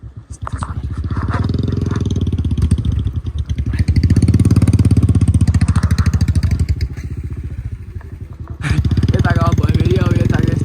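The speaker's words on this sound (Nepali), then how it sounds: "यताको अब भयो फेरि अब यताको यस्तो यो बाइकले तान्दै तानेन कि" A motorcycle engine labors and strains under load on a road trip toward Karpu from Pokhara, its loud, close, rough drone surging and dipping, with voices heard alongside.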